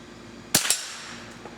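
An American classic .22 rifle fires at a target during 4th of July shooting: two sharp, close cracks in quick succession ring out, followed by a quiet tail.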